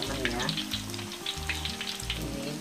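Stuffed tofu filled with vegetables fries steadily in hot oil, a close, continuous sizzle with crackling pops layered under a low background hum, with no voices.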